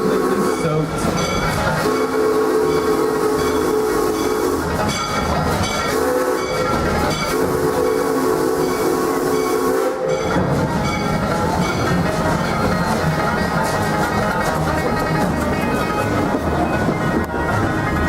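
The Miami Valley Railroad train at the Kings Island amusement park runs along its track with a loud steady rumble and clatter, its whistle or horn sounding for the first ten seconds before the noise continues without it.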